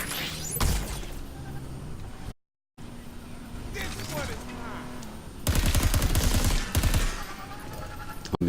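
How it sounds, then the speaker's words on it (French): Bursts of rapid machine gun fire in the video game Crackdown 3, including a dense sustained volley near the end, mixed with other game effects and someone talking. "Oh, mitraillette quand même."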